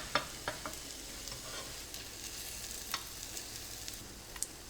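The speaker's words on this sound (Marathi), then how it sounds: "आता यावर झाकण न ठेवता आणखी एक दोन मिनिटं छान भाजून घेऊया" Appe dumplings made from poha and moong dal roasting uncovered in a pan, a soft, steady sizzle broken by a few sharp crackles and pops, close and quiet, with no talking.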